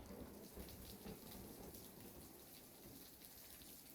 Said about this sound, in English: Thunder tears through the sky, startling me awake.